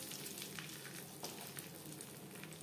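Cashews and raisins fry lightly in a pan for a vegetable fried rice, giving a steady, close crackling sizzle with small pops throughout and no voices.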